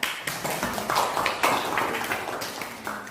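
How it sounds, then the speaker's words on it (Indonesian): Students in a classroom give a group a round of applause, a dense run of quick handclaps that carries steadily for the whole stretch at close range, with no talking over it. "Beri tepuk tangan."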